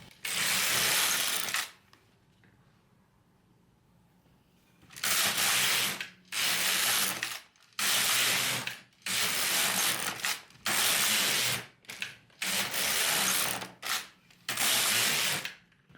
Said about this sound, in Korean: 버림질로 이렇게 몇 단을 뜨고 한 6단 정도 뜨면 되거든요